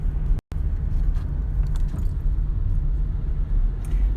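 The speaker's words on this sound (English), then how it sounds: "I am stuck in traffic." A car idles and rumbles while stuck in morning traffic, a steady low engine and road drone throughout with a brief dropout near the start; no talking.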